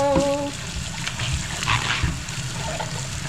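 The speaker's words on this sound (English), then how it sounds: "Just giving this a quick rinse." Freshly harvested kitchen-garden produce rinsed under a running tap, a steady trickle and splash of water with brief handling noises, close and moderately loud throughout.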